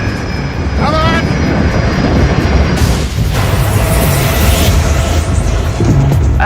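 A plane's engine roars loud and steady throughout, with a rough wash of noise and a brief whine near the start, as if close to an aircraft in distress, with no clear talk over it.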